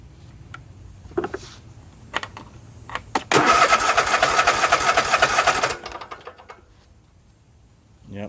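A Husqvarna engine with a repaired fuel hose cranks in a few short bursts, then catches and runs loudly for a couple of seconds before dying away, close by with some faint clatter around it.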